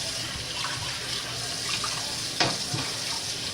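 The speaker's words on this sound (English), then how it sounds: "Rinse the can out. I always like to rinse the can out." Tap water runs steadily into a sink as an empty tuna can is rinsed out, a close, continuous splashing flow with a couple of brief clunks of the can.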